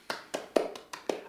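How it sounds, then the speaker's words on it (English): Five separate hand claps at a steady, fairly quick rhythm, each sharp and close with a short decay; a lone clapper rather than a crowd. "applause"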